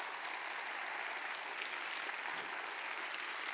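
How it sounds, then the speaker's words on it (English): Audience applause after a keynote talk at SXSW Sydney 2024, a dense, steady wash of clapping from a large crowd, continuous and even for several seconds with no voices. "I'm too British to accept applause."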